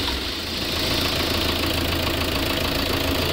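A medium engine that has just started runs at a steady idle with a rough knocking vibration, close and continuous.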